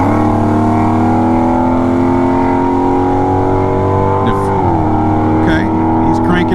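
A Honda Goldwing motorcycle engine idles and revs steadily under the throttle, with a loud, continuous rumble and a small rise in pitch partway through.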